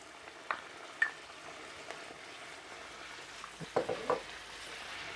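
Beef, green pepper and black bean sauce sizzle softly in a pan, a low constant frying hiss broken by a few sharp stirring clinks and scrapes.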